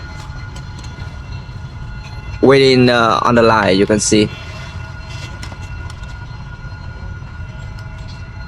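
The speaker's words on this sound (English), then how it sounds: "there is a train going to cross the street, so they stop." A train crosses a busy street on tracks in Saigon beside a broken-rice spot, a loud squealing horn-like burst of a couple of seconds standing out over steady street noise, with someone talking.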